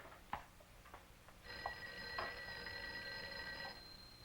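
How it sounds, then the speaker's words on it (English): An office telephone rings with a steady electronic trill lasting a couple of seconds, faint and somewhat distant, preceded by a few light clicks and knocks. "I think your phone is ringing"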